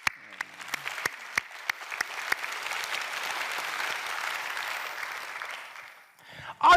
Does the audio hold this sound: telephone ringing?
no